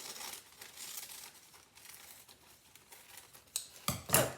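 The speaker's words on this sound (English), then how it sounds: "I'm going to just cut it with my scissors then." Scissors cutting through greaseproof paper in a home kitchen while preparing a Victoria sponge tin, faint close crinkling and rustling that ends in a few sharper snips and paper crackles.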